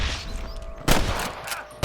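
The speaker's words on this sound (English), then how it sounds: "can hear more gunshots." Sharp bursts of gunfire crack out in quick succession in Red Dead Redemption over a low rumbling backdrop, with a final loud shot at the end.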